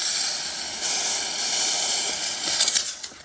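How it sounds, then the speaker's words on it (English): A handheld steamer hisses in a steady, fairly loud spray while cleaning washing machine parts on an LG or Kenmore washer being fixed for an error code, with brief bursts near the end. "Do a quick steam."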